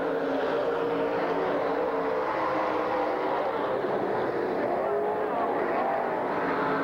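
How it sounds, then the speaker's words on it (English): Stock race car running by on the Silver Spring Speedway oval, a steady loud engine roar filling the whole stretch with a slight rise and fall as it passes, heard on degraded footage. "the 2M of Dave Magilton runs by"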